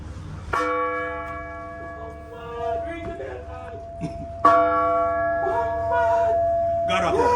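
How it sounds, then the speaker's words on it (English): A church bell in Black River, Jamaica, rung by hand after Hurricane Melissa, two resonant strikes with long ringing decay, heard close with people talking between them. "you climb up to this after hurricane and ring the bell"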